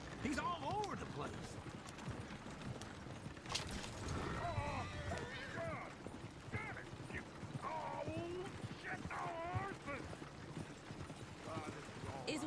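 A horse-drawn coach in the Red Dead Redemption 2 video game, its hooves clip-clopping in a steady rhythm while people talk over them, with a horse whinnying now and then.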